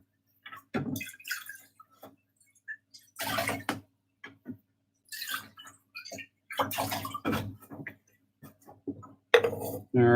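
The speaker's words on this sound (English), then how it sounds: "Let's give this a bit of a rinse out." Water splashes and sloshes while a container is rinsed out at a sink during pigment making, heard in short bursts with gaps of quiet between them and faint clinks of the vessel.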